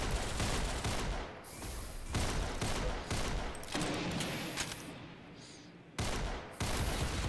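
Rapid gunfire bursts in the Roblox game Arsenal, loud repeated volleys of shots broken by short gaps, with no speech heard.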